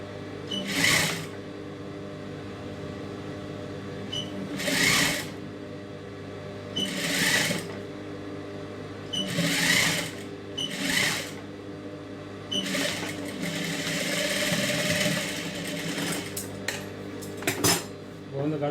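A sewing machine stitches a rolled hem on a silk skirt in several short loud bursts separated by pauses, close up, with a longer continuous run near the end.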